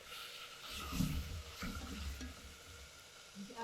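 Tomatoes sizzle in a frying pan with onions and cumin, a steady soft hiss with occasional stirring scrapes, fairly close and moderate in level with no talk.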